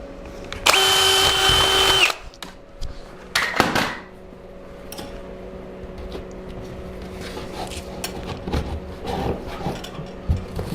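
A power drill with a 3/4 inch paddle bit bores through a wooden garage beam in one loud, steady whining burst of about a second and a half, followed by quieter rattling, knocks and tool handling.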